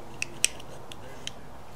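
Cutting nippers snipping a guitar fret during a re-fret job, three sharp metallic clicks spaced unevenly, close and crisp over a faint background hum.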